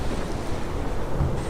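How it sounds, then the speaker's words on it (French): Gusting wind of a storm at sea blows as a ship starts rolling on the waves in the rain, a dense continuous roar of wind and surf with no voices. "Le vent souffle en rafale, la pluie tombe et le navire commence à rouler sur les flots."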